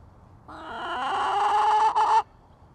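A backyard hen gives a single drawn-out, rising cackle lasting nearly two seconds, close and clear against quiet surroundings, with no talking.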